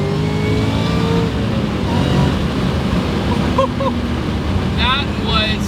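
A 1000HP Shelby GT500 Mustang accelerates hard, its engine roaring loudly and steadily with rising tones while wind buffets the microphone and a short voice or two sounds faintly beneath.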